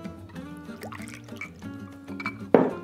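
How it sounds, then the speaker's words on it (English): Rum is poured into a shot glass, a short liquid trickle and splash heard up close in a quiet room. "Killing it today with these shot pours."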